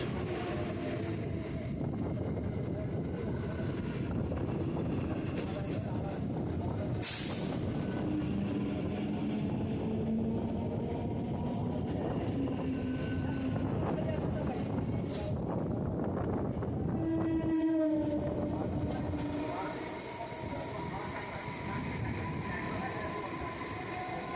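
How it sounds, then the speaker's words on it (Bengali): A Barasat carshed local train with new ICF coaches passing between Sealdah and Barasat, a long continuous rumble and rattle of wheels on track, with a brief sharp screech midway and a clattering swell near the end. "এখন আমাদের সামনে আসছে বারাসাত কারশেটের নিউ আইসেফ কোচ"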